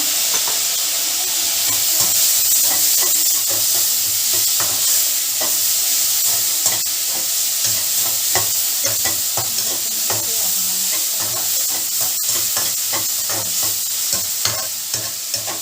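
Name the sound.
stirring and frying tomatoes in palak potato gravy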